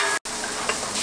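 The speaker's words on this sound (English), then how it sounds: "Go ahead and throw the noodles on there." Noodles hitting a hot, oiled Blackstone griddle give a loud, steady sizzle up close, broken only by a very brief silent gap near the start.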